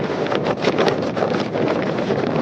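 Strong gusting wind buffets the microphone on a Girnar mountain peak, a loud rushing roar that swells and dips in uneven bursts.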